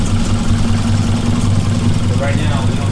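A Toyota AE86 with a swapped 3SGE BEAMS engine on individual throttle bodies idles with a steady, low rumble and constant hum, close by and fairly loud.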